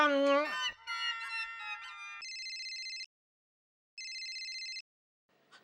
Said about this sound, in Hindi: जेठा जी प्लीज फोन उठाइए